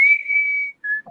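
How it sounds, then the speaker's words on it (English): A person whistles a few short random notes, one long sustained tone followed by two brief ones, close and clear with no other sound. "I'm whistling random stuff"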